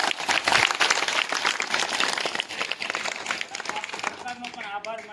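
An audience at a gathering in Gujarat claps in a loud, dense burst that gradually thins out, while a speaker's voice carries over the applause.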